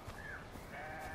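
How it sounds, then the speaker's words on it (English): Goat in the video game Far Cry 4: a single faint, short bleat against quiet background ambience, with no talk. "I hear a goat."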